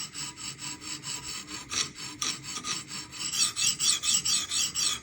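A Spyderco Magnamax knife blade is drawn over a sharpening stone in quick, even strokes, each one a close, gritty rasp, and the scraping grows somewhat louder and brighter toward the end, with no voices.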